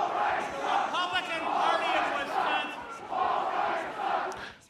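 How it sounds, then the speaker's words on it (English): A large crowd chants in unison, a rhythmic wave of many voices rising and falling in repeated phrases, loud and sustained throughout with no separate speaker. "I think that crowd, though, was saying Paul Ryan sucks"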